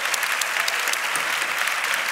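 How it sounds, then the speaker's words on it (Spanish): Audience applause at the Premios Platino 2022 awards ceremony, an even, continuous patter of many hands clapping that holds steady throughout without any talking over it. "así que un aplauso."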